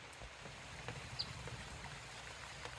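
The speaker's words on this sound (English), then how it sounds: "rain" Light rain falling on a chilly, damp late-spring evening in the New York Finger Lakes, a soft steady patter with faint scattered drops, quiet and even throughout.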